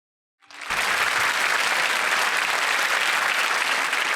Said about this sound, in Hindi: तालियों के साथ उनका अभिनंदन करते हैं।